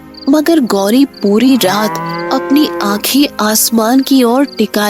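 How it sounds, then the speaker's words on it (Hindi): A cartoon cow moos, drawn out and loud, in a Hindi animated moral story, mixed with an energetic narrator speaking over it. "उसके रंभाने की आवाज पूरे गांव में गूंज रही थी"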